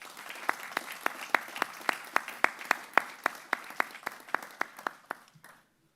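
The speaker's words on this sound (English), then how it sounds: "Please join me in applauding the achievements of our graduates." A university graduation audience in London claps in a slow, steady rhythm, about twenty sharp evenly spaced claps that come across clearly, then stop abruptly near the end.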